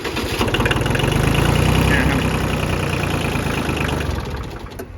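A compact L2201DT diesel tractor engine runs at a steady, loud idle close by, with a dense low rumble and rhythmic knocking that holds throughout, easing slightly toward the end.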